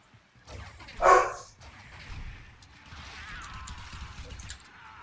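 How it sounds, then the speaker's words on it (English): Dog barking heard in the background of a Warframe syndicate mission session, with a louder yelp-like burst near the one-second mark, then low rumbling game sound and faint activity for the rest. "Sorry for the dogs barking."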